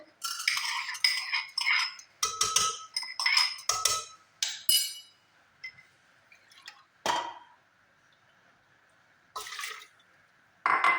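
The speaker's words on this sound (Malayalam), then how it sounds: "ഞാൻ പരിപ്പ് ഇട്ട് കൊടുക്കുന്നുണ്ട്. പരിപ്പ് കഴുകി എടുത്തിട്ടുണ്ട്." Washed lentils (dal) go into a cooking pot for a tender jackfruit, mango and coconut curry, giving wet clinks, splashes and scraping in a cluster of close bursts, then sparser knocks and drips.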